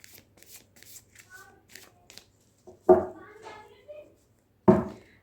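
Tarot cards being shuffled by hand, a soft riffling patter followed by two sharp slapping bursts of card shuffles, close and distinct, with faint speech-like sounds in the background.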